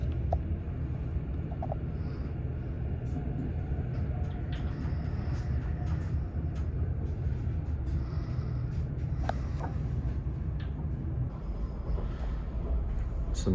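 A normal Swiss passenger train in first class runs along with a steady low rumble and interior hum, constant and close, with faint clicks and rattles scattered on top.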